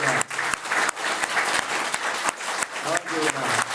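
A large audience at a New Year spiritual discourse claps loudly and continuously, a dense sustained roar of hands with sharper bursts throughout, swelling as the applause is urged on.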